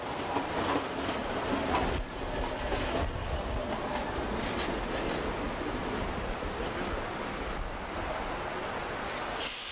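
An old Berlin S-Bahn train from the Stadtbahn series runs along with a steady, loud rumble and faint rail rattle that continue throughout, with no voices.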